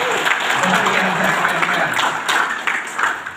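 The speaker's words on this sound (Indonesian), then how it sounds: "Boleh tepuk tangan dong ya, semangat ya." Audience clapping in a business meeting room, a dense continuous burst of applause with faint voices mixed in.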